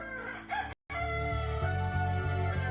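A cartoon rooster crows loudly and drawn out, with clucking hens and a brief cut of silence partway through.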